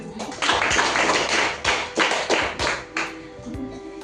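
A small group in a counselling session claps hands in uneven bursts, with a few separate loud claps standing out amid quieter clapping and faint voices.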